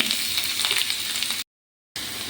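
Chopped ginger and onion fry in hot oil with a bright, close, steady sizzle, broken by a brief stretch of total silence before the hiss resumes.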